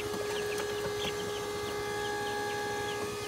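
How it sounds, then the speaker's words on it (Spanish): Chickens in a chicken coop give a few faint, scattered clucks over a constant mechanical hum, with no talking. "Este es el gallinero."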